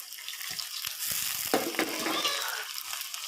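Soaked moong dal and onions fry in hot oil with a steady, loud sizzling hiss, broken by a few soft stirring knocks and scrapes in the pan.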